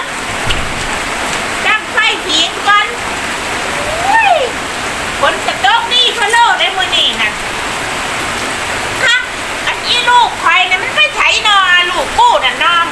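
Steady rain pours down, loud and continuous, while people talk and call out over it throughout.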